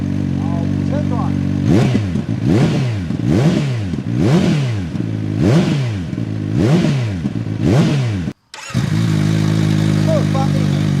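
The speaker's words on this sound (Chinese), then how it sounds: "我们开场先来听一个四缸的排气音" A CFMOTO 750SR-S motorcycle with a 750cc four-cylinder engine idles, then its exhaust is blipped in about seven quick, even revs; after a brief cut the engine settles back into a steady, close idle.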